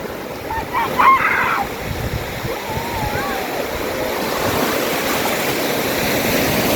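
Surf breaking on a beach at Cape Le Grand near Esperance, Western Australia, with a steady, loud wash of waves and a brief voice near the start.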